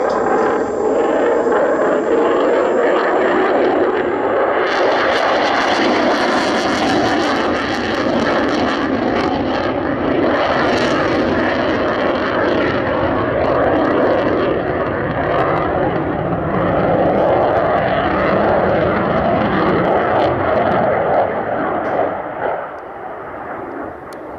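A Eurofighter Typhoon jet roars loudly through a slow roll along the display line at Duxford, its engine noise a sustained, powerful rumble and whine that holds steady before easing off near the end.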